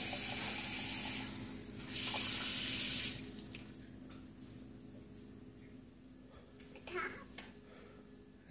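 Water runs from a faucet into a sink, filling a container to the top at home, with a steady hiss and splash that surges louder for a few seconds, then settles to a quieter trickle.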